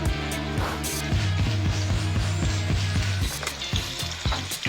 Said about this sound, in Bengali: এবার আমি কোপ্তাগুলো দিয়ে দেবো গরম তেলের মধ্যে